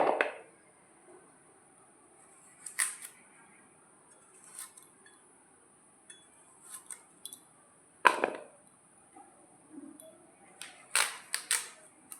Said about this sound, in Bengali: আমি ছোলা কচের মুখিগুলোকে এইভাবে কেটে নিচ্ছি এরকম চার ফালি করে কেটে নেব